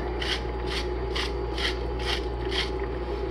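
Salt grinder cranked over a pan of creamy white wine and mushroom sauce for chicken breasts, giving six evenly spaced gritty ratcheting bursts, close and clear over a steady low kitchen hum.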